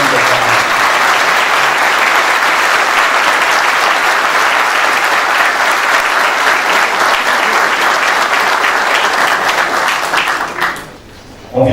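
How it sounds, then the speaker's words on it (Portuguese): Sustained, loud applause from a large ceremonial audience at a Masonic tribute to the Brazilian Army, honouring invited national personalities; a dense, even wash of clapping that runs steadily for about ten seconds before dropping away. "solicitamos uma salva de palmas para as personalidades nacionais convocadas"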